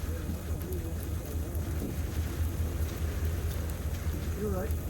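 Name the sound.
rain falling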